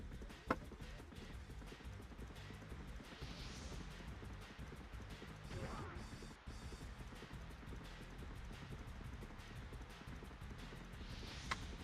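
A horse gallops across a Dynasty Warriors 2 battlefield in a steady, dense clip-clop of hooves under a loud game soundtrack and clashes, with no voices.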